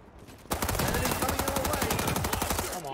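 QBZ-95 assault rifle firing in the video game World War 3, a sudden burst of rapid automatic gunfire that runs continuously and loudly after a brief quiet start.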